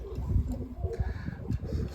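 Pigeons cooing inside an old pigeon loft, low soft repeated coos close by, with faint rustling and a quiet voice in the background.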